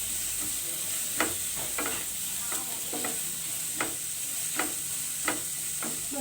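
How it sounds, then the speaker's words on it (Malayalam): Onions with salt sautéing in a pan for a dry fish masala fry, a steady sizzle with repeated scraping stirs of a spoon every second or so, close and moderately loud, no talking. "സവാള ഒന്ന് പെട്ടെന്ന് വഴണ്ടി വെക്കാൻ കുറച്ച് ഉപ്പ് കൂടി ആഡ് ചെയ്ത് കൊടുക്കാം."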